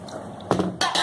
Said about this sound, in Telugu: ఇప్పుడు ఆ నీళ్లు వంచి పెట్టుకున్న వాటర్ ఇందులో పోసుకుందాం